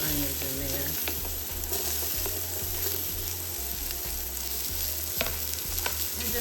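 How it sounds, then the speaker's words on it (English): Onions fry in hot oil in a pan, giving a steady, close sizzle with faint knocks from stirring and a low hum beneath. "I have my oil in my pan heating up, and then I'm gonna go ahead and throw those onions in there"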